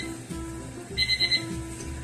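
A quick run of four high electronic beeps from a kitchen timer, moderately loud over a low steady hum of background noise.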